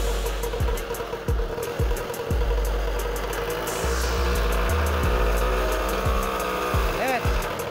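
A mobylette moped with a lowered engine idles and revs steadily close by in a village setting, with an uneven running rhythm and periodic clatter.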